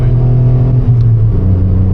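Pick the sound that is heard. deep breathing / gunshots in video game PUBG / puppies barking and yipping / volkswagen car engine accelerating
volkswagen car engine accelerating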